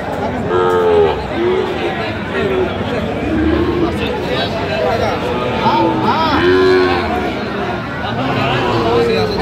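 Sahiwal bulls on a cattle farm in Cox's Bazar lowing repeatedly, several drawn-out moos rising over constant crowd chatter and people talking nearby.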